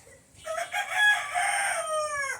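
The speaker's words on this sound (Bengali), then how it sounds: "এদিকে আবার মুরগি চেঁচাচ্ছে" A rooster crows in one long drawn-out call while chickens squawk around it, close and fairly loud, in a rural Bengali garden after heavy rain.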